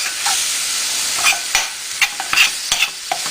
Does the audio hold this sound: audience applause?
no